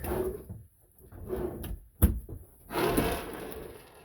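Wooden drawers in a 2008 Nuwa Hitchhiker Champagne edition camper slide open and shut several times, with soft rolling scrapes and a sharp thump as one closes midway.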